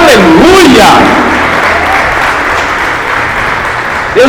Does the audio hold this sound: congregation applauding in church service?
yes